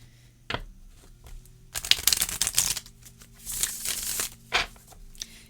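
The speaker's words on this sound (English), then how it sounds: "So I'm going to shuffle just like 3 more times here." A Universal Fantasy Tarot deck of standard cardstock being shuffled close by, several bursts of riffling and card flutter separated by brief pauses, no talking.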